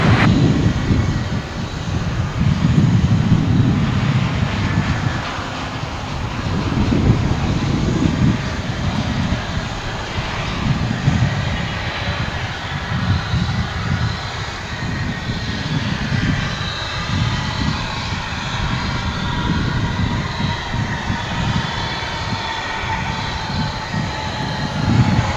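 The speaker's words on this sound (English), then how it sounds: "I hear the roar of a jet." A jet airliner roars steadily at DFW International Airport, a loud sustained broadband engine rumble that rolls on for the whole stretch with no voices.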